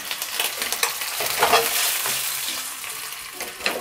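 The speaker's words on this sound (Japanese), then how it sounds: "ベーコン一旦こんな感じで、はい、炒めました" Bacon frying in a frying pan while being stirred, a steady close sizzle with scraping and stirring clicks throughout, rising a little midway, no talk over it.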